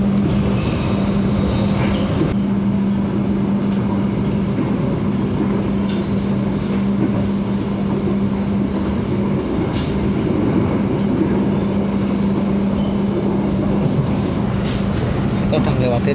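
Argo Lawu express train running toward Bumiayu station, a steady loud rumble of wheels and carriage with a constant low drone throughout, heard from inside the moving train.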